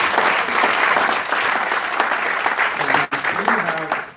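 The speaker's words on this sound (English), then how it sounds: "And with that, you should clap." Conference attendees applaud in a room, the clapping sustained and fairly close, then thinning out as a voice starts speaking near the end.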